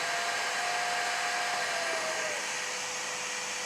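A Jisulife Neckfan 5 neck fan running at 75% speed gives a steady, even rush of airflow with a faint whining tone inside it, close and constant with no voices.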